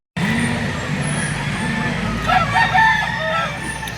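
Young rooster (stag) crowing at a poultry sale in Lipa City, Batangas, one crow cutting through steady traffic noise and a busy market background.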